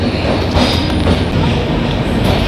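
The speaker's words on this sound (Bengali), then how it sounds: "আমাদের ট্রেন খড়গপুর জংশন ছেড়ে রওনা দিল তার গন্তব্যের উদ্দেশ্যে" Steady rumbling and rattling of the Shalimar–Puri superfast express leaving Kharagpur Junction, with a continuous low roar and faint clickety-clack from the wheels, close and loud throughout.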